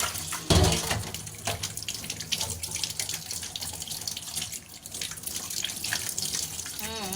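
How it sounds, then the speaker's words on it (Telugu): Water runs steadily from a tap as wheat flour dough, suspected of being adulterated and rubbery, is washed by hand, with splashing and gurgling continuing close by and no speech. "ఒక చపాతీకి సరిపడే అంత తీసాను, కడుగుతున్నాను."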